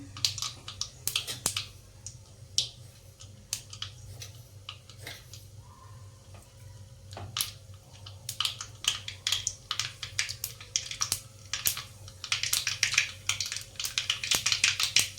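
Mustard seeds popping in hot oil in a kadai, with faint, irregular sharp crackles and pops that grow denser toward the end, over a low steady hum.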